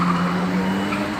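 Car at full throttle near the A13 motorway toll plaza at Mantes-Buchelay, heard as a loud, steady engine drone that holds without a break through a brief moment.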